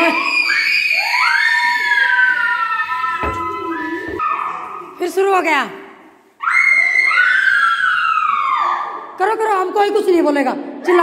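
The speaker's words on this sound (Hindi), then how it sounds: "चिल्लाना बंद हो गया अब नहीं चिल्ला रहे आप" Children scream and shriek at a new home, loud and close, in long high-pitched bursts broken by brief pauses and a short lull, with talk and laughter mixed in.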